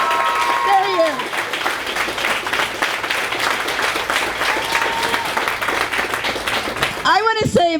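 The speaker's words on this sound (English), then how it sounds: "Can we give him a round of applause?" Supporters at a primary night campaign event give a sustained round of applause with cheering, preceded and followed by a speaker's voice over a microphone.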